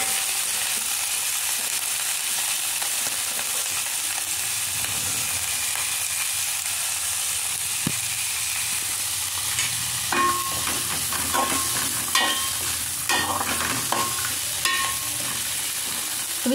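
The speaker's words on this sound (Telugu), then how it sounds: "ఇందులోని జీలకర్ర, ఉద్దిపప్పు, ఆవాలు, ఆవాలు, వెల్లుల్లిపాయలు వేసి దీనైతే బాగా వేపేసాను. దీంట్లో మనం ములక్కాడలు అయితే యాడ్ చేసుకోవాలి." Drumsticks are being fried in a pan with cumin, urad dal, mustard seeds and garlic, giving a continuous loud sizzle, with occasional clinks and scrapes of stirring toward the end and no talk.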